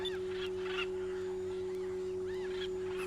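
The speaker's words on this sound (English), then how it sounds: "Sounds like there's a lot of birds and stuff on the island too." Birds calling on an island in the video game Skies of Arcadia Legends, several short caws and squawks spaced apart over a steady tonal hum.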